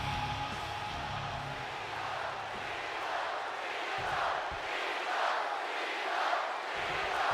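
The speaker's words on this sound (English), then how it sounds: "Sounds like the crowd here in Dayton, Ohio is fully behind Cena." A large wrestling arena crowd in Dayton, Ohio roars and cheers continuously, a dense, sustained wash of voices with swells of excitement rising through it.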